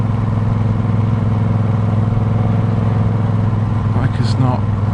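A motorcycle rumbles along a rough stretch of the old Route 66, its engine a loud, steady low drone close by with rattling from the bumpy surface, and a brief higher squeal near the end.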